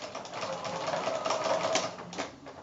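A sewing machine runs steadily through a blanket stitch, a fast mechanical whir with rapid rhythmic needle ticks, sewing variegated thread onto background and leaf fabric in machine-fused reverse appliqué; close and continuous with no talking.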